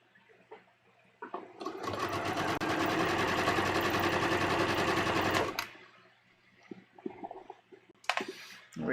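A sewing machine stitches along the neckline of a bias-cut V-neck dress in one loud, continuous run of rapid mechanical clatter lasting several seconds, framed by quieter handling noises before and after.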